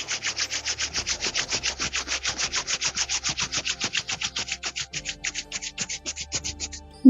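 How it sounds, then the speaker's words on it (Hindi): Two palms rub briskly together in a steady back-and-forth rhythm, about five swishing strokes per second, close and clear with no voices. "दोनों हाथों को रब करें।"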